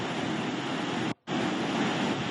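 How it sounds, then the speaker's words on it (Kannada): The flooded Phalguni river near Mangaluru, swollen by heavy rain, rushes in a loud, steady broadband roar of churning water, broken by one very brief dropout. "ಮಳೆ ಹೆಚ್ಚಾಗ್ತಾ ಇರೋದ್ರಿಂದ ನದಿಗಳು ತುಂಬಿ ಹರಿತಾ ಇವೆ."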